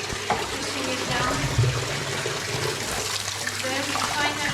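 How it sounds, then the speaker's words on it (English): Water flows steadily in a salt mine exhibit, a continuous broadband rush with a faint low hum and no clear voices over it. "Then finally, water flowing here."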